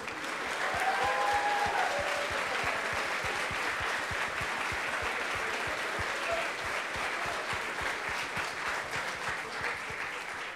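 A packed hall applauds the Aesthetic team from Universidad Estadual de Campinas, Brazil, at the ICPC Latin America Championship closing ceremony: dense, steady clapping that holds for the whole stretch, with a faint voice briefly near the start.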